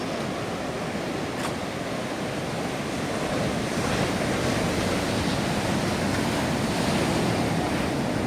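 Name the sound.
ocean waves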